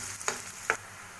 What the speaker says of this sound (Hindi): अब प्याज को मैं लाइट ब्राउन होने तक भूनूंगी।